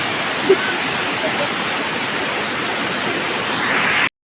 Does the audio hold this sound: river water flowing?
yes